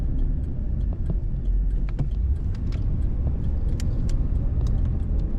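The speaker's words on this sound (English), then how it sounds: "Very smooth running vehicle." A white 1990 Chevrolet Caprice Classic Brougham sedan with column automatic idles smoothly, a steady low engine rumble heard close up with faint intermittent ticks and clicks over it.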